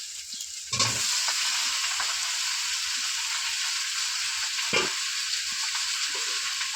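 Malabar spinach and potatoes hit hot oil in a wok and fry with a loud, steady sizzle and hiss, broken by a couple of sharper clatters of stirring.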